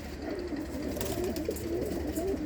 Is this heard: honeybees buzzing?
no